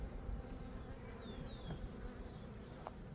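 Honey bees hum steadily inside a quiet colony hive, a soft continuous drone with a few faint individual buzzes passing close by, alone without talk.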